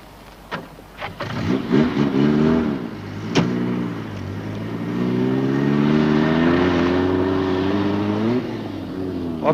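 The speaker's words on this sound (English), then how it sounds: "then start your car up" A car engine powered by taped-together torch batteries cranks with a few clicks and sputters, catches, then idles and revs steadily nearby.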